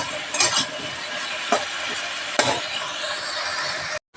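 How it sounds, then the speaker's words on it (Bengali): Fish fat sizzling steadily in hot cooking oil in a pan, a constant close crackling hiss with a few brief louder spatters and clinks, no talking. "তেলগুলোও দিয়ে দিলাম। ভালো করে ভেজে নেব।"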